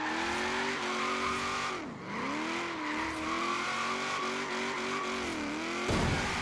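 Race car in a racing video game drifting with a sustained engine drone and shifting revs, tire squeal rising and falling as it slides through a turn, loud and close, no talking.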